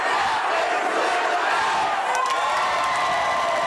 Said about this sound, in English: With an enthusiastic employee cheer and a little more stocking, Cabela's will open in Colorado.